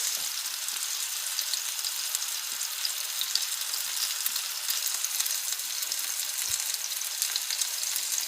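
Ribeye steaks fry in a pan over medium to high heat, giving a continuous close hiss of sizzling with small crackles and pops scattered through it.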